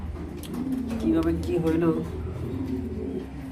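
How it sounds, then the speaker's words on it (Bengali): An injured red checker pigeon coos softly in a few low, rounded phrases beneath close, steady speech from a man nearby. "রেড চেকার আমার খুবই একটা প্রিয় কবুতর"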